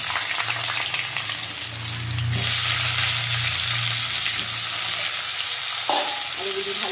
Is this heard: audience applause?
no